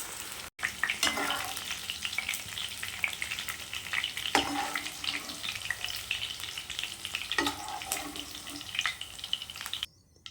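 Brinjal fries in oil in a pan, giving a steady close sizzle. Soft stirring scrapes and clinks come through now and then, and it stops abruptly at the end.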